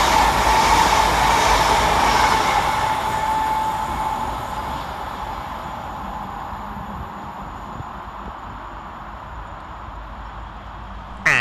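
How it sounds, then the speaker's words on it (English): A passenger train arriving at Eccles railway station rumbles past loudly close by, its roar slowly easing as it pulls through, with a faint squeal of wheels toward the end. "coming around the corner, running 17 minutes late for Transpennine Express is 802205"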